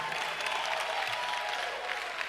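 Thin, scattered applause from a seated conference audience continues steadily and sounds faint and unenthusiastic throughout, with no one speaking over it.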